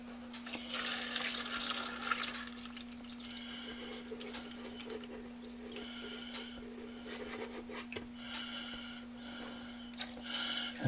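Water runs into a cleaning machine being filled for a tool-box restoration, a steady splashing, gurgling flow with a constant electrical hum underneath and a few short bursts of louder pouring.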